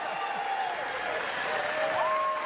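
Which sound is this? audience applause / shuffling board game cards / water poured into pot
audience applause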